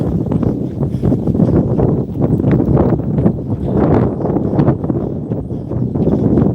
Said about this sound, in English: my S23 Ultra is blocking the wind noise, but very windy